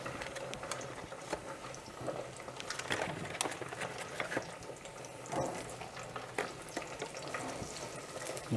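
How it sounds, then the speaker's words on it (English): Grape tomatoes and garlic sauté in a pan with a continuous crackling sizzle, and a utensil stirs through them with repeated scraping and clicking. The sound is moderately faint. "You just want to get everything in there and continue to give it a stir."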